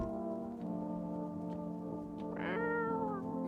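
A cat meows in a video game, one clear rising-and-falling call near the middle over a steady droning game soundtrack, with no talk.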